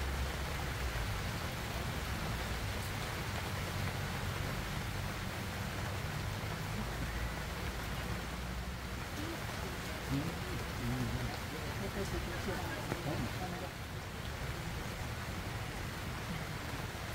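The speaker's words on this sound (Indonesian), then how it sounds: "hujannya deras lagi" Heavy rain falls at a family campsite in Cidahu, Sukabumi, a dense continuous hiss of drops on surfaces lasting throughout, with faint voices underneath at times.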